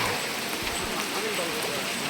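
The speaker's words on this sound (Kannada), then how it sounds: "ಮಳೆ ಬರ್ತೈತೆ ಜೊತೆಗೇನೆ, ಸ್ವಾಮಿಗಳೆಲ್ಲ ಹೋಗ್ತಾ ಇದ್ದಾರೆ" Rain falls on a hill road used by tractors and walking pilgrims, a steady close hiss of drops filling the air throughout.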